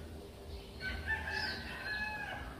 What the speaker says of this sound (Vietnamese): Mọi người có thể nghe được những tiếng gà gáy của vùng nông thôn này